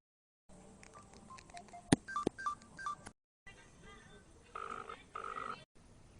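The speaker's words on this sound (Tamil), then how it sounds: "ரகு சார் ஃபோன் பண்ற" A telephone sounds for an incoming call. Sharp electronic beeps come first, then two short bursts of warbling ring tones separated by brief silences, faint against quiet background noise.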